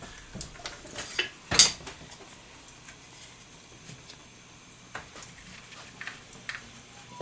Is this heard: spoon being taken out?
yes